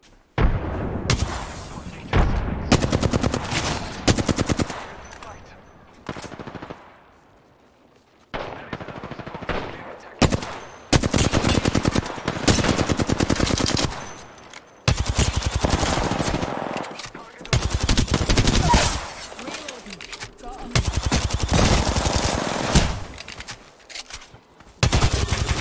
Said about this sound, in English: I do hear shots this way.